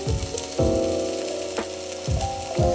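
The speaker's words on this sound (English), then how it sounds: "Heat the pan with little vegan oil and put the minced leeks." Minced leeks frying in a pan with a little vegan oil, a steady close sizzle with bursts where ingredients hit the pan, under a faint musical backdrop, no talk.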